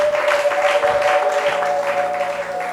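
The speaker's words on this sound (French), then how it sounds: "Acclamez pour la gloire de notre Dieu" A church congregation claps in a dense, steady patter of applause, with a sustained organ or keyboard tone ringing underneath throughout.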